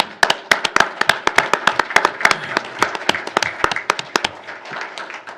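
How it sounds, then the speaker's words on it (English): Applause at a city council meeting honoring a longtime city employee and resident: a room of people clapping steadily and fairly close for several seconds, sharp individual claps standing out over the dense patter, gradually thinning toward the end. "deserves a round of applause"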